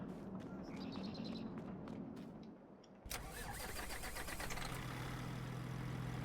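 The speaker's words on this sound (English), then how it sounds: "let's go get in this loud truck" A truck engine in the video game Farming Simulator 22 cranks and catches, then settles into a loud, steady idle with a low rumble.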